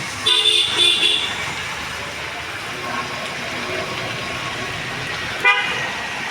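Steady street traffic rumbles along in the rain, with a few short car horn toots near the start and another brief honk later.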